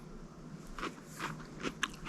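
Onion bitten and chewed with rice, a handful of crisp crunching bites spaced out over a couple of seconds, close and fairly soft with no talking.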